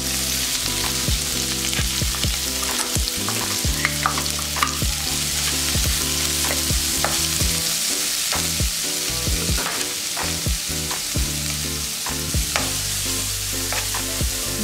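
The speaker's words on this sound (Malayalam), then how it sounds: "4 സവാളയും 4 പച്ചമുളക് ചെറുതായിട്ട് അരിഞ്ഞതും ഈ ഇതിലോട്ടിട്ട് നമുക്കൊന്ന് വഴറ്റിയെടുക്കാം" Chopped onions and green chillies sauté in a pan for a paneer capsicum masala, giving a steady loud sizzle with repeated scraping stirs and clinks throughout, no voices.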